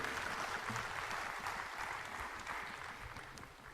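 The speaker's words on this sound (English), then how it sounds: "Another round of applause, please." Audience applause at a sixth anniversary celebration at Shanti Sarovar, a dense, steady wash of clapping from a large crowd that fades slightly at the end.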